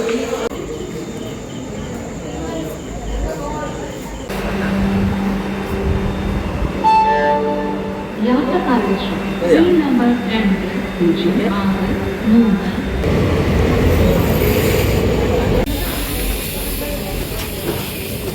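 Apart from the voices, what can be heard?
train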